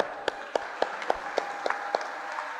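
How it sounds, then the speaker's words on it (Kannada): A handful of scattered, distinct claps ring out from the audience at a meditation talk, roughly a dozen sharp hand claps at an uneven pace over a quiet room rather than full, sustained applause. "ಸೊ ನಿಮ್ಮೆಲ್ಲರಿಗೂ ಜೋರಾಗಿ ಚಪ್ಪಾಳೆ"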